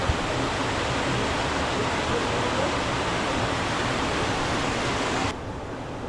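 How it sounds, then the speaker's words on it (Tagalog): A strong cold spring stream at Sulat, Sorsogon rushes in a dense, steady roar of running water close by. It continues without a break and dips slightly near the end, and no one speaks. "Napaka solid ng running water dito."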